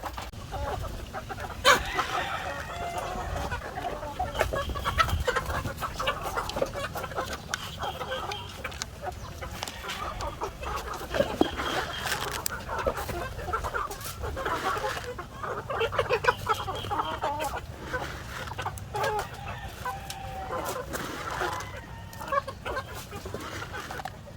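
White Leghorn chickens cluck steadily in a pen bedded with rice hulls, a dense chorus of overlapping calls from several birds close by, with no talking.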